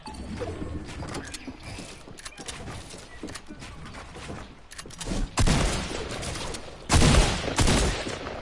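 Bursts of gunfire from the Fortnite video game, with loud overlapping shots clustered toward the end, heard over ongoing game sounds and players talking.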